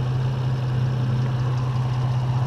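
A Nissan 350Z with its 3.5-litre V6 and cold air intake idles nearby, a loud, even low rumble that holds steady throughout with no talking.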